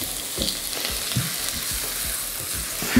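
Onion and tomato sauté in a hot oiled pan while cooking mung bean stew, giving a steady close sizzle broken by scraping stir strokes, with no talk.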